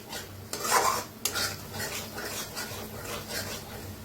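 A spoon scrapes and stirs masala roasting with curd in a metal pan, with clinks against the pan and a light sizzle under a busy, uneven rhythm.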